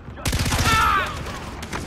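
Rapid bursts of gunfire in the video game Far Cry 3, a loud close volley of overlapping shots with a brief voice underneath.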